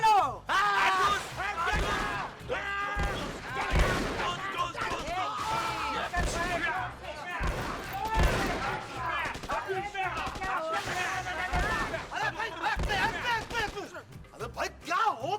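Several people in a comedy scene imitate gunfire with their voices, firing into the air with pretend hand-guns: a loud, continuous chorus of shouted bang-like vocal bursts overlapping throughout.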